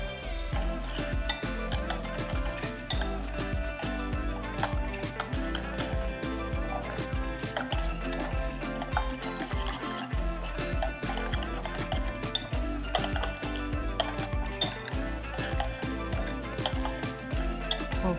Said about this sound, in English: I'll mix this up first before we go in for our sausage